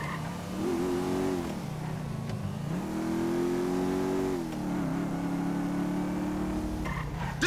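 Big motorbike engine revving in GTA V gameplay, a steady mid-level drone that rises and falls in pitch with several throttle swells, heard alone without talk.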